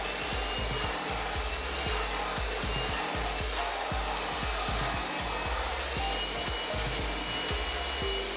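A handheld hair dryer blows steadily and loudly while coarse hair is dried, its constant whooshing airflow punctuated by brief dips and bumps as the dryer moves. No one speaks.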